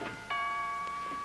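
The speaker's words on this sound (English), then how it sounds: "would you mind answering the doorbell, please?" A doorbell rings indoors in an old family sitcom home, a single chime that sounds quickly and then hangs on as a faint sustained ringing tone.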